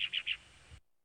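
Three quick, bright whistled notes from a Darwin's finch of the species Geospiza scandens, sounding close and clear in a quiet setting before falling silent.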